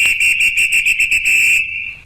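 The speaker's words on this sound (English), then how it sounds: "If you hear this second whistle" A shrill signal whistle in ARMA 3, blown loud and close as one sustained blast that pulses in rapid trills for about a second and a half before cutting off.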